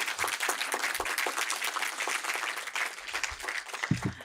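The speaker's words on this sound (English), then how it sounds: "Please give them all a massive round of applause." Audience applause for nine startups at a pitch competition in Cornwall, brisk, dense clapping throughout with a few louder individual claps and low thumps near the end, no speech over it.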